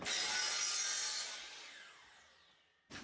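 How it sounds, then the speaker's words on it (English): A chop saw slices through PVC pipe: a loud, close, high whining cut that fades as the blade spins down, then a short burst as the saw starts up again at the end. "So we'll get those cut. You can cut PVC with basically anything you can cut wood with. So you can use a circular saw. I'm going to use a chop saw"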